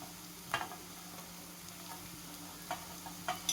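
Potato, paneer and onion being mixed for sweet corn cutlets, giving faint scraping stirs with a few sharper clicks of a spoon against the bowl, quiet and close, with no voices.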